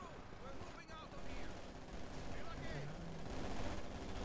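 Heavy automatic fire from a Maxim machine gun in a multiplayer war game, a dense continuous clatter of rapid shots with more gunfire mixed in, and voices talking over the din.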